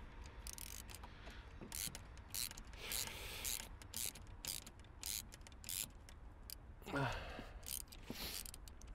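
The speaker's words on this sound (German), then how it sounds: "jetzt müssen wir das einfach nur noch festziehen und dann sind wir auf der Seite durch" A hand tool tightens the xenon headlight bulb fitting on an Audi A6 4F, giving a series of close, quick ratcheting clicks in irregular bursts over a steady low background.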